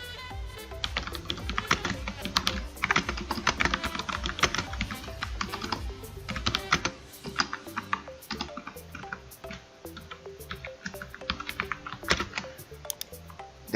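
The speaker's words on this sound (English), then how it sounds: "you can type in the message" Rapid, uneven keystrokes on a computer keyboard as a message is typed, close and steady throughout, with a constant faint background hum and no talking.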